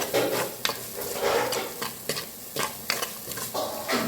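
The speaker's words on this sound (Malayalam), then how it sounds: "നന്നായിട്ട് വഴറ്റി എണ്ണ തെളിയുന്നിടം വരെ വഴറ്റാം എന്നാണ് ആഗ്രഹിക്കുന്നത് അങ്ങനെ ഞാൻ വഴറ്റിക്കൊണ്ടിരിക്കുകയാണ്" Masala sautés in a pan for egg ularthu, with repeated scraping stirs against the pan over a soft background sizzle. The strokes come in an irregular rhythm, close and clear, with no voices.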